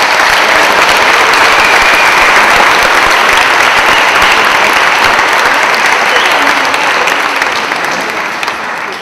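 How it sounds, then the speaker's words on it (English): Sustained applause from a large audience at a graduation ceremony, loud and steady for the full stretch, tapering slightly near the end with no talking over it. "you all deserve a round of applause as well"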